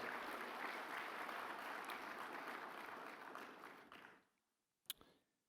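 Gala audience applause in a banquet hall, a broad steady roar of many hands clapping that fades out after about four seconds, followed by near silence and a single sharp knock.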